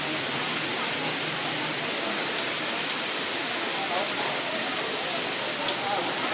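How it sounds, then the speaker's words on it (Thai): Steady rain falls over a morning fresh market in Xayaboury, Laos, during a town-wide power outage, a dense even hiss with scattered drips on nearby surfaces, loud and continuous throughout. "อนนี้อาจจะได้บรรยากาศไม่ค่อยครบถ้วนนะครับ เพราะว่า ฝนตกนะครับ"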